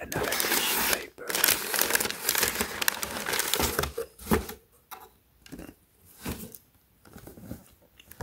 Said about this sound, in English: Wow. Another tissue paper.